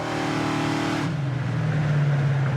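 A 1971 Ford Mach 1 with a 429 Cobra Jet V8 driving, its loud, close engine note holding steady and then dropping lower as the gear or revs change, with no voices.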